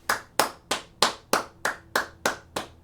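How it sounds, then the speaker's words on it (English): One person claps their hands slowly and steadily, nine or ten crisp, close claps in an even rhythm with no talk. "I gotta give it applause for Drew Commesso."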